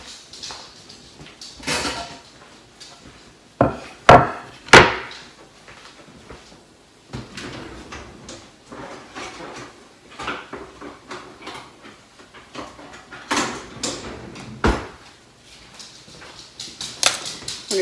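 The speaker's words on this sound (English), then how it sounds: "right now I'm just going to chop up some onion and some jalapenos" Knife chopping onion and jalapenos on a cutting board in a home kitchen, sharp irregular thuds and taps scattered across the stretch, some louder clustered strikes, no talk.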